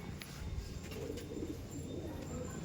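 A male and female pair of Star Kalanka pigeons in a loft coo steadily and softly through a constant low background rumble, with no clear voices.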